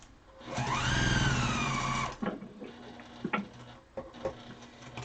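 Sewing machine top stitching around the edge of a fabric mask, a steady loud whirring run of about a second and a half that stops abruptly, followed by softer handling clicks and bumps.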